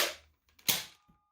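A toy foam dart shotgun blaster, converted from mega to fire three single darts, gives one sharp close pop with a brief rattle after it, preceded by a faint air burst and followed by a small click.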